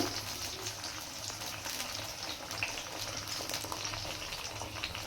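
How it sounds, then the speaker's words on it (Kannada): Quarter kilo of whole brinjals deep-frying submerged in hot oil over a high gas flame, a steady dense sizzle with bubbling crackle running evenly throughout, no voices. "ಈಗ ಇದೊಂದು 5 ರಿಂದ 10 ನಿಮಿಷ ತನಕ ನಾವು ಇದು ಎಣ್ಣೆಲೇ ಬೇಯಿಸೋಣ"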